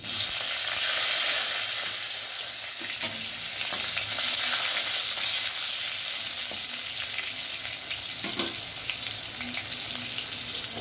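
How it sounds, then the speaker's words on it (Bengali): Black cumin seeds, a green chili and chopped small tomato frying in leftover fish-frying oil, giving a steady, loud, dense sizzle with a few soft stirring clicks throughout. "মাছ ভাজা তেলের মধ্যেই দিয়ে দিচ্ছি কালো জিরে ফোড়ন, একটা কাঁচা লঙ্কা দিয়ে দিচ্ছি এতে"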